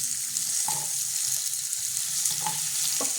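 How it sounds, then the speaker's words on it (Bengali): Potatoes frying in oil for a mustard-and-poppy-seed vegetable chachari, giving a steady close sizzle and crackle throughout with a few brief clinks of a spatula against the pan. "এরকম দিয়ে দেবো আলুটা, তাহলে তাড়াতাড়ি সেদ্ধ হয়ে যাবে একটু ভেজে নিলে।"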